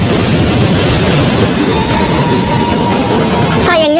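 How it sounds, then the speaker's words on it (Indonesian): A big explosion in the Douluo Continent animated film is a loud, sustained roaring rumble that holds steady for several seconds before a short warbling sweep at the end. "Mang Hojun sudah bersiap untuk menyulutnya demi memicu ledakan besar guna membakar tim Dewa Iblis."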